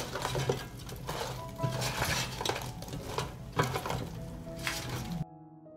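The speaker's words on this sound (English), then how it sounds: "I'll stir." Meat and potatoes are stirred in an air fryer basket, with busy clinks, scrapes and rattles of utensil against metal throughout, close and moderately quiet, stopping abruptly at the end.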